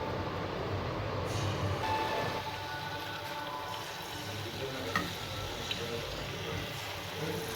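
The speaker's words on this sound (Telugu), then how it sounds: "బజ్జీలన్నీ కూడా సిమ్లో పెట్టుకొని గోల్డెన్ బ్రౌన్ కలర్ వచ్చేంత వరకు వేయించుకోవాలి" Continuous crackling hiss of Mysore bondas deep frying in oil on low heat, a dense rain-like sizzle with low background rumble throughout.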